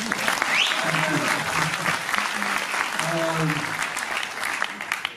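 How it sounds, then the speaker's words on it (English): An audience at a musical night for the unveiling of a single applauds, dense steady clapping sustained throughout with some crowd voices mixed in. "can I ask you guys to clap for yourself once?"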